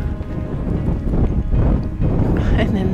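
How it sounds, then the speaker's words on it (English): Wind blowing outdoors at a horse paddock, a steady rushing buffet against the microphone that swells and dips throughout, with faint background sounds mixed in. "It's still kind of windy"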